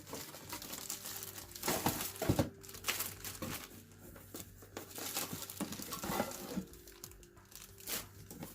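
Paper packing material from a desktop PC floor mount is handled and crinkled up close, with irregular rustles, crumples and occasional soft tearing-like swishes throughout, fairly quiet and without talking.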